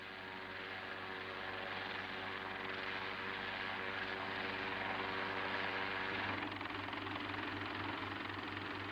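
Helicopter flying low over a small island town with a jetty, a steady engine and rotor drone running throughout with harmonic hum, slightly shifting in tone near the end.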